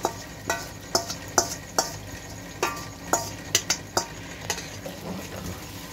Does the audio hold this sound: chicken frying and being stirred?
yes